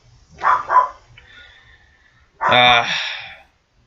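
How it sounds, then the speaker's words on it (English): Dogs bark in the video game Minecraft, with two close, loud barks near the start, a faint high tone after them, and a longer harmonic yelp or whine burst near the end. "Hopefully, they stop barking."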